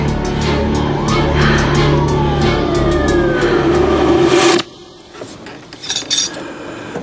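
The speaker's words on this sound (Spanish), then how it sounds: "Llegó la ambulancia." An ambulance siren arriving, its gliding wail rising and falling under a dense wash of engine and street noise for about four and a half seconds, then cutting off abruptly to a quieter room with light clinking of dishes.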